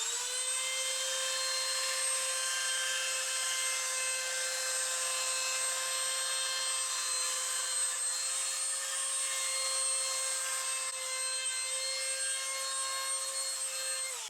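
A router with a 1/8 inch bit rounds over the bottom edges of a wooden plate, giving a steady high-pitched whine that holds for the whole stretch at moderate level.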